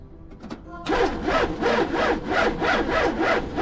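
A car starter motor cranks on a dying battery in a fast, rhythmic whirring grind, loud and close, after a few brief clicks at the start.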